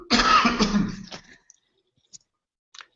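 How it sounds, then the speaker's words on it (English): A single harsh, loud cough up close, followed by a few faint clicks in near silence. "Hopefully that cough didn't come through too loudly."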